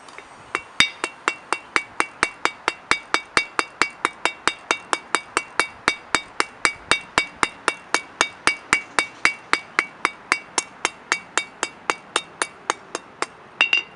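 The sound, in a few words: hammer forging hot steel leaf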